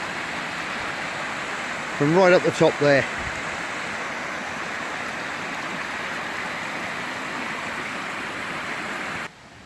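A small cascading waterfall in a mossy, fern-filled spot pours a steady broadband rush of water that fills the whole scene, with a brief spoken remark near the start.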